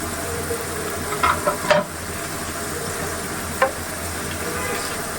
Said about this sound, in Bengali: ভালো করে পেঁয়াজের পাতাগুলোর সাথে মশলাটা কষিয়ে নেব